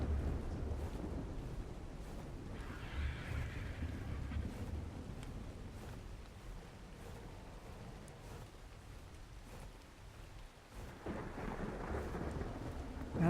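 Rain and thunder in Ark Survival Evolved, a steady wash of rainfall and wind with low rumbling thunder swelling and fading, moderately loud and continuous without voices.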